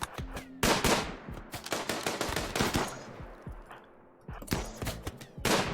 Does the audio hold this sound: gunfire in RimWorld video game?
yes